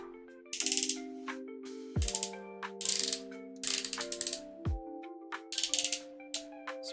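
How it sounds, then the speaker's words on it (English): Ratcheting joints in the arms of a Transformers Superion toy click in quick bursts as the limbs are moved, each run of crisp plastic clicks separated by short pauses, close up and with nobody talking. "Nice ratcheted arms."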